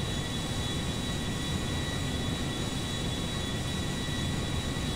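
Boeing 737 MAX 8 jet airliner in the video game GTA V, a steady loud broadband engine roar with a thin high whine running unchanged throughout.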